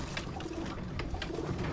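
A red check odd wing white flight pigeon coos in a repeated low rhythmic purr, close and steady, with no talk.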